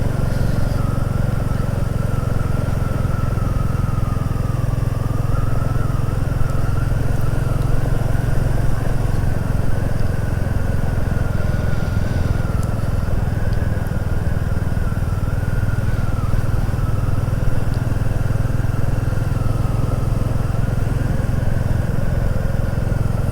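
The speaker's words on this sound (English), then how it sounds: "it's lovely to hear that little pop pop pop sound again of this engine" Royal Enfield Classic 350 single-cylinder motorcycle engine running steadily for a long stretch while riding, a low continuous thumping drone with wind noise, no talking.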